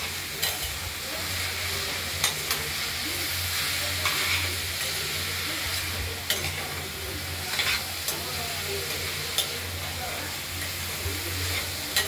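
Ash gourd curry with turmeric being stirred in a hot pan, a soft continuous sizzle with occasional scraping knocks of the spoon against the pan, close and steady with no talk.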